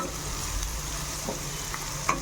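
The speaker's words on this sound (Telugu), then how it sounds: "ఇంకొంచెం వేయించుకుందాం" Tempering spices fry in a pan with a soft, continuous sizzle and a few light stirring scrapes, close by and fairly quiet over a short stretch.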